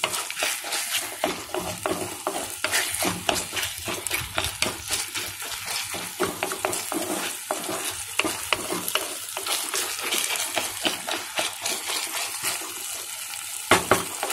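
Mutton handi cooking over a very high flame, loud frying sizzle broken by repeated scraping and clattering stirs against the pot, an irregular busy rhythm close by with no voices.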